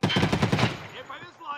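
Rapid burst of automatic gunfire in an arena shooter video game, about a dozen quick evenly spaced shots close up, then fading into softer game sounds and faint background voice.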